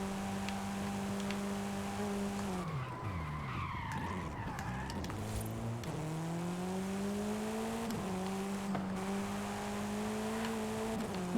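Engine of a 2022 Ford Focus ST on a driven run, a steady buzzing drone that drops through a gear change, then climbs again in rising pitch sweeps with faint tire noise beneath.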